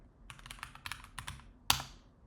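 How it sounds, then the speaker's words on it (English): Typing on a computer keyboard: a quick, uneven run of close key clicks ending in one sharper, louder keystroke, with no talking. "I will go ahead and begin typing"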